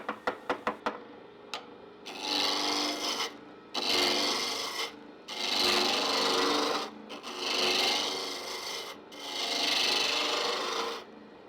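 A turning tool cuts a wooden workpiece spinning on a lathe, producing loud rasping, scraping passes in about five long bursts separated by short pauses, after a few quick taps at the start.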